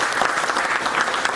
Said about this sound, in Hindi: इनके लिए भी तालियां।